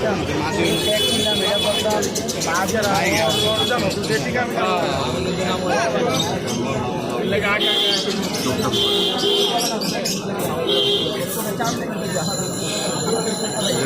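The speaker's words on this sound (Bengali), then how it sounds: "পুরান জাতের কবুতর," Pigeons coo amid the bustle of the Mirpur pigeon market in Dhaka, their soft calls mixed with chirps under nearly constant nearby talking and market noise.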